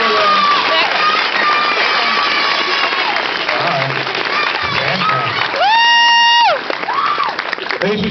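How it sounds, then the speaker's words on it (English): An independent film festival audience in Las Vegas applauds and cheers the filmmakers, loud sustained clapping mixed with whoops and shouted cheers, with voices rising above the crowd. "Give these guys another round of applause"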